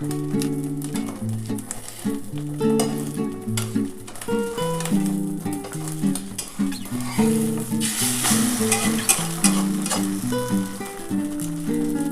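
Egg omelette pieces fry in hot oil for an omelette curry, making a continuous hiss with occasional stirring under fairly loud background music, with no speech.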